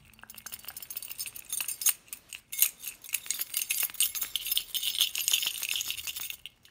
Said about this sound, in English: You've always loved the sound of keys.